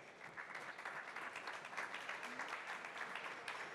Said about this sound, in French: je vous propose de tous les accueillir sous vos applaudissements